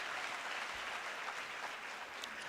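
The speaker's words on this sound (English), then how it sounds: "Can we also give them a big round of applause," At a University of Limpopo graduation ceremony, the audience applauds senior and junior lecturers. The clapping is faint and steady, a soft continuous patter heard alone for a couple of seconds.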